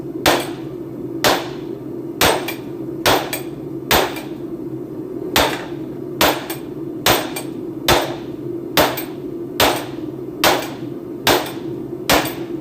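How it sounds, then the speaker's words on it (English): A hammer strikes a bouncy anvil at a homemade forge build, about fifteen sharp, ringing blows in a steady, unhurried rhythm over a constant low hum. "There's too much bounce in this anvil."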